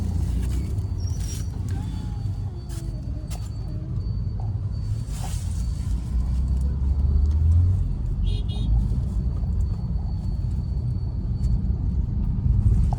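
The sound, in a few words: Maruti Suzuki Baleno car engine running with growl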